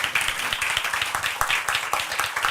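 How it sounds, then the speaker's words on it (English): An audience gives warm applause to Zohra, a woman evacuated from Afghanistan after the Taliban takeover, with many hands clapping in a brisk, close, sustained patter. "warm applause for Zohra"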